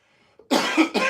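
Three sharp coughs in quick succession, loud and close, following a moment of near silence.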